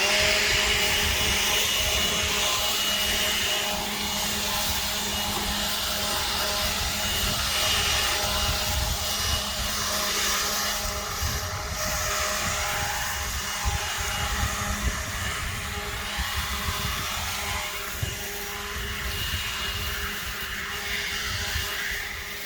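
A Ryobi ONE+ cordless leaf blower runs continuously, a loud, steady broadband rush of air with a constant motor whine, close to the microphone and heard alone for the full duration.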